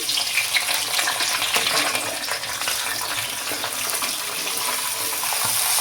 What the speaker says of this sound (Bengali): আমাদের তেল গরম হয়ে গেছে, এখন আমি সবজিটা দিয়ে দিচ্ছি।